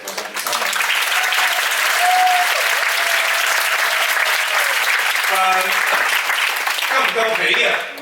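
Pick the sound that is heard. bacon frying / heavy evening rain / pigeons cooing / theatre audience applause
theatre audience applause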